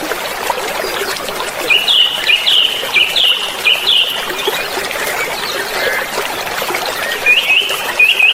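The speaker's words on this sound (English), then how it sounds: "Bird." A bird chirps in short repeated bursts, a cluster early on and a couple more near the end, over a steady trickling, water-like background with no talking.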